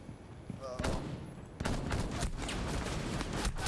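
Gunfire in a first-person shooter video game, including a DMR rifle: continuous rapid bursts and crackling shots with a louder intensifying stretch after the first seconds.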